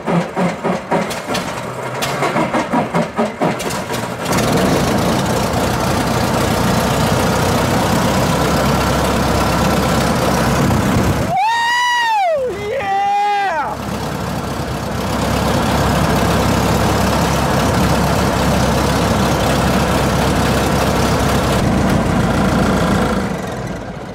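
Stunt plane engine, sitting unused for years, coughs and runs rough at a steady idle close by, then briefly falls nearly silent twice with a whining rise and fall before settling back into a loud, continuous idle.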